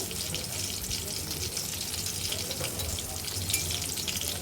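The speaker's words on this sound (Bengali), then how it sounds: "আমরা এভাবে মাছগুলো ভেজে নেব দেখুন বন্ধুরা ইলিশ মাছে কত তেল উঠতেছে" Hilsa fish frying in oil in a pan, a steady broadband hiss and fine crackle held at an even level throughout, close and continuous with no talk.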